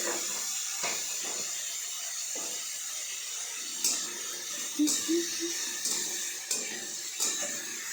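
Water heating on a stove for cooking khichuri gives off a steady hiss of steam, close and moderately loud throughout, with a few soft knocks and clinks and a brief voice breaking in.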